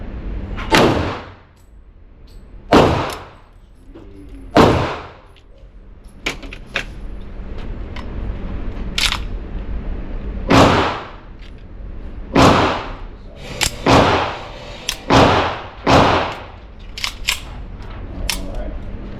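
Girsan MC1911SC .45 ACP pistol fired at a range, about eight loud, sharp reports spaced a second or two apart, each decaying quickly, with faint background noise between shots.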